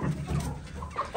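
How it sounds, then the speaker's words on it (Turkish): Chickens cluck at a farm coop, low clucks and short calls close by, overlapping continuously. "Tabii onları yerlerine kovarken tavuklar da oraya geliyor."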